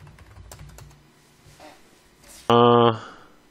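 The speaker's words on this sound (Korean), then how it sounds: "여기에 아이디하고 비밀번호를 입력을 합니다" Several quick, light key clicks on a computer keyboard as an ID and password are typed, followed by a short loud voiced burst near the end.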